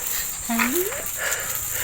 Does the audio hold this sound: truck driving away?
no